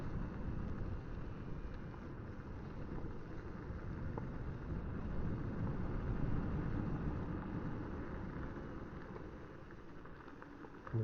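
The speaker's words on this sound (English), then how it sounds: "Got wind blowing." Steady wind rushing and buffeting the microphone during a dual sport ride on a Honda XR250 motorcycle in Arizona mountains, a constant low roar with no distinct events and no talking.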